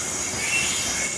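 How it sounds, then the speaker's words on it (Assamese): A goods train passes through a railway station in Panchmahal district, Gujarat, giving a steady, close, continuous rolling rumble with bright high hiss and no pauses or voices. "মালগাড়ী গৈ আছে।"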